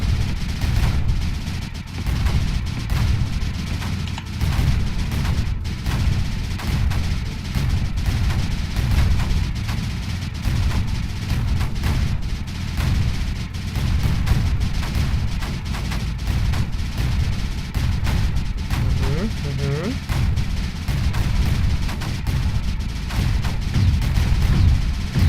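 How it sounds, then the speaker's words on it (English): Mortars in the strategy game Creeper World 4 thump away in a dense, continuous barrage, loud, overlapping booms with no pauses across the whole stretch. "Now we've got some mortars actually doing work"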